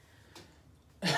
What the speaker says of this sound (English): I'm sorry, I keep coughing.